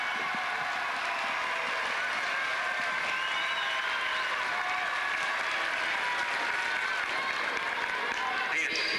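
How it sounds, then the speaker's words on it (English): Tennis crowd applauding at the 1998 Qatar final, a dense, even wash of clapping held throughout, with faint voices and whistles mixed in. "some genuine applause on this occasion rather than just screams"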